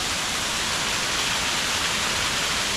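A mountain stream on the Jepii Mici trail rushes past nearby with a dense, even roar of flowing water that holds steady throughout.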